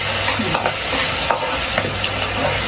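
Sliced onion hits hot oil already fragrant with bay leaf, cardamom and cinnamon for a chicken roast, giving a loud, close, steady sizzle broken by scraping stirs of a spoon in the pan.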